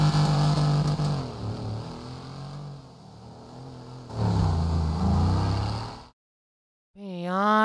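A car engine in GTA 5 revs and drones loudly, its pitch rising and falling through two surges, then cuts to silence before a short rising rev.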